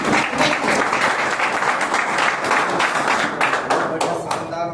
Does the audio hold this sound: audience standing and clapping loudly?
yes